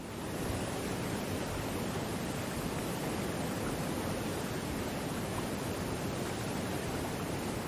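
A waterfall in a fan-made Wizard101 concept game roars as steady, dense broadband rushing water, continuous and fairly loud with no breaks or voices.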